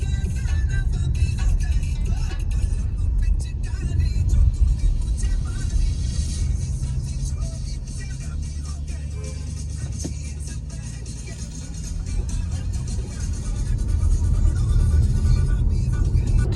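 A Vinfast VF6 electric car cruising at about 100 km/h on the highway, a steady low road and tyre rumble with wind noise that holds continuously throughout, no speech over it.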